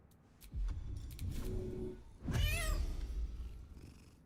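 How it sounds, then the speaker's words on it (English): A cat meows in Baldur's Gate 3, two drawn-out, fairly loud calls, the second higher and wavering, over a quiet game backdrop. "Send in the cat."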